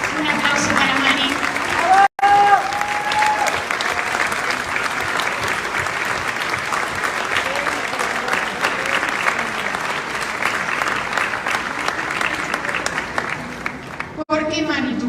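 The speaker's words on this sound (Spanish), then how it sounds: "Un aplauso para Mari." Steady, dense applause from a large audience fills the whole stretch, with a brief break partway through and a sharp cut near the end.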